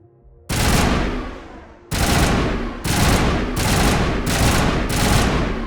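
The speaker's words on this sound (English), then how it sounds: "The Breaker state-of-the-art battle rifle features a high rate of fire, fires in 5-round burst, and has average accuracy." The Breaker battle rifle in the video game Mass Effect fires in loud, sharp five-round bursts, with several bursts in quick succession and each burst trailing into a short echo.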